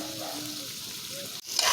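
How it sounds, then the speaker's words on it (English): Pepper and onion fry in a pan at an outdoor cooking spot, giving a steady, close crackling sizzle that swells louder in the final moments. "we're going to let it fry a little bit"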